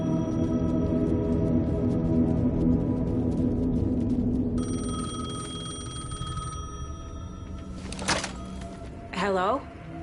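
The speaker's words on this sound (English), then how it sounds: "The payphone was ringing." A payphone rings in Alan Wake 2: a steady electronic ringing tone holds through the clip over a low droning game ambience, ending with a couple of brief clunks and a short warbling sound near the end.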